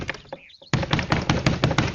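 Repeated heavy knocking on a locked door, a steady series of loud close thumps after a brief quieter moment with a faint voice.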